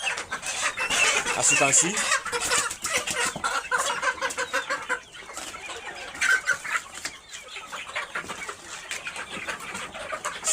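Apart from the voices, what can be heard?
layer hens clucking while being moved on a poultry farm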